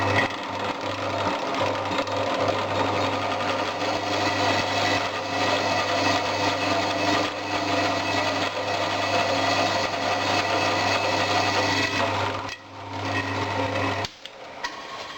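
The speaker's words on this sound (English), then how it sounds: "Now you watch when I drill this piece" A drill bores into a piece of scrap ductile cast iron, giving a steady, loud grinding whir that runs unbroken for most of the stretch before cutting off near the end, with no talking over it.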